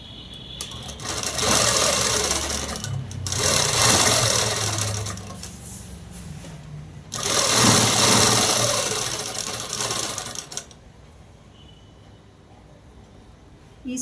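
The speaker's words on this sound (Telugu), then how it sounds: "ఇలాగా అనేది స్ట్రైట్ కుట్ అనేది వేసేసుకున్నాము." A sewing machine stitches a straight seam on a long frock, running in two loud bursts of rapid, steady mechanical whirring separated by a brief slowdown, then stopping into quiet.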